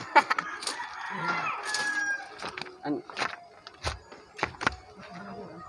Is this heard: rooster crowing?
yes